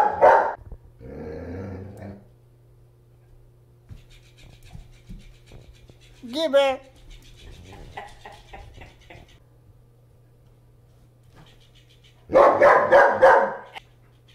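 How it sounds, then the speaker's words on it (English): German Shepherd barking at a floppy fish toy: a few loud, close barks in short bursts at the start, middle and end, with a steady low hum underneath and a person briefly speaking. "stop barking at it and get back."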